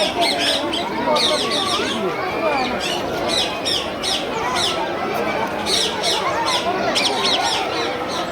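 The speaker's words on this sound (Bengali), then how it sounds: "কত কালারের যে টিয়া পাখি আছে সবগুলো এখানে আছে" Parrots of many colours squawk and screech continuously in an aviary at Chittagong zoo, a loud, dense chorus of harsh calls with voices mixed in.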